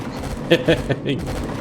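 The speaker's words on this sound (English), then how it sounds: "The cannon turret's shooting at something over there." Cannon turret in the space survival game Empyrion Galactic Survival firing at a drone: three sharp, fairly loud shots in quick succession, then a brief burst, over a steady background of game noise.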